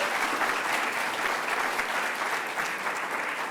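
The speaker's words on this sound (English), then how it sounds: "A big round of applause for Phoenix." Audience applause for performer Phoenix Pagliacci at the iBRIDGE 2023 event, steady dense clapping held at an even level for the whole stretch, with no voices on top.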